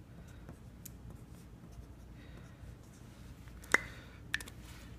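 Pen scratching on paper as a matrix is written out by hand, quiet soft strokes in short bursts with a couple of sharper taps, close and faint.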